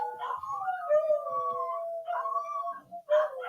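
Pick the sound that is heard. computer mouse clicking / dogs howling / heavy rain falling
dogs howling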